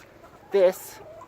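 Backyard hens at an urban smallholding in winter give a brief, close cluck of about half a second, standing out over a quiet background.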